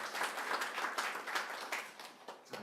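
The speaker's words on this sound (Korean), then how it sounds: "우리 하나님께 영광의 박수를 올릴까요?" Brief burst of applause from a church congregation at a Korean Sunday service, a dense scatter of many hands clapping at once, fairly close and steady before thinning out at the end.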